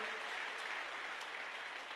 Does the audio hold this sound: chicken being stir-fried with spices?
no